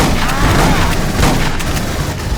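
An explosion booms amid continuous gunfire in the video game Aliens: Colonial Marines, heavy and loud, with rumbling blasts filling the whole moment.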